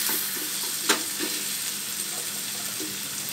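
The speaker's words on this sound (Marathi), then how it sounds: "लसूण वगैरे चांगलं भाजून घ्यायचं" Onion and garlic frying in a pan for a Marathi Bombay duck curry, with a continuous hissing sizzle and soft stirring scrapes, one brief sharp utensil tap, close and steady.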